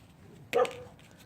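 A dog lets out a single short bark, close and fairly loud, in a workshop setting where a GY6 180cc scooter engine top end is being rebuilt.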